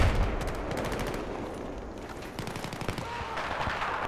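Rapid bursts of automatic gunfire from Battlefield 4 in Second Assault Obliteration mode, dense overlapping shots cracking close and loud through the whole stretch with heavier volleys near the end.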